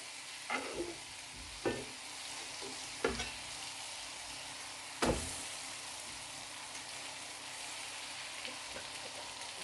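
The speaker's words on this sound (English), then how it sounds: "We're just going to gently melt the butter." Butter melting gently in a pan over low gas heat for carrot halva, making a faint soft sizzle with a few sharp utensil clicks, quiet and close with no speech.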